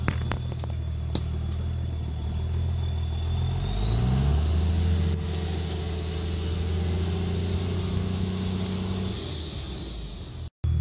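A Dodge 2nd Gen pickup engine revs while towing a Jeep through snowy, slippery woods, a loud steady drone that climbs in pitch and holds high, close by and without talk.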